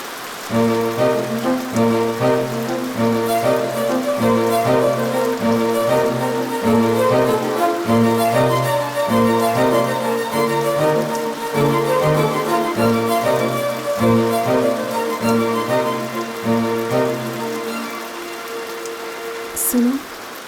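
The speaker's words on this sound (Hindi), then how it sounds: "बारिश पहले पहाड़ पर आती है, जानती हो?" Rain falls steadily on a hillside, a soft continuous patter under a prominent melodic music score.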